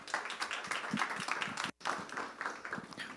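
Audience applause welcoming a speaker onstage at a university innovation event, a dense burst of many hands clapping that fills the room, briefly cutting out mid-way before resuming at full strength.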